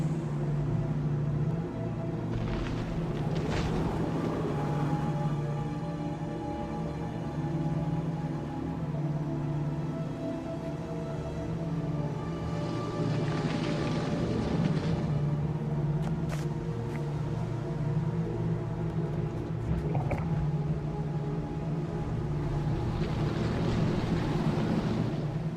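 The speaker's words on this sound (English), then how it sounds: "That wind is fierce." Fierce wind in the fantasy game Guild Wars 2 roars as a continuous broadband rush with a low rumble underneath. It swells in gusts every several seconds and carries no speech.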